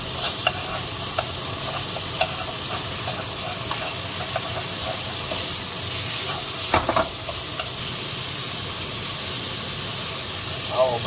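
Ingredients sizzle and hiss in a hot wok as they are stir-fried until golden, a loud steady frying crackle with scattered scrapes and clinks of the spatula, while a person speaks over it.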